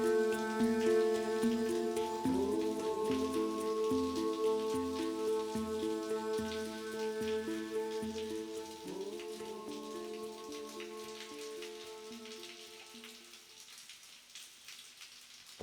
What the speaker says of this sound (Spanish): Vamos a ver qué nos dice la lluvia.